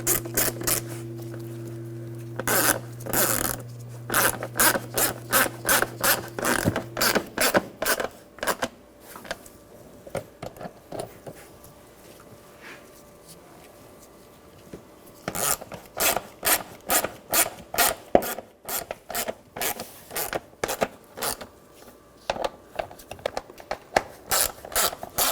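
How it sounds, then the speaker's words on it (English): Screws being tightened on the engine air filter housing of a 2021-2023 Jeep Grand Cherokee L: quiet, rapid ratcheting clicks in repeated bursts with brief pauses, plus a low steady hum at the start. "Now tighten down the screws."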